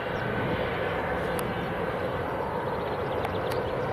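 A Pegasus Airlines jet at Leeds Bradford Airport, bound for Dalaman, gives a steady broadband engine roar at moderate distance, unbroken throughout.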